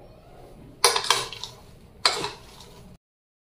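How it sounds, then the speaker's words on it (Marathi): Onion, tomato, corn and finely chopped cucumber being mixed for chana chaat, heard as two bursts of spoon scraping and clinking against a bowl, close and fairly loud. "कांदा, टोमॅटो, कॉर्न, बारीक चिरलेली काकडी, अर्धी वाटी डाळिंब आणि किसलेले थोडेसे गाजर, कोथिंबीर हे सर्व आता आपण मिक्स करून घेऊयात।"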